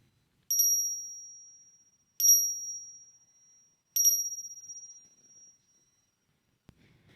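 A small bell rings three times at even intervals, each strike bright and clear and then slowly fading out in near silence, followed by a faint soft knock.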